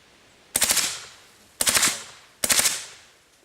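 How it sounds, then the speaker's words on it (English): A machine gun at an outdoor shooting range fires three short bursts in quick succession, each a loud, sharp rattle of rapid shots lasting under a second with a brief reverberant tail, separated by short pauses and no talking. "Shoot a short burst."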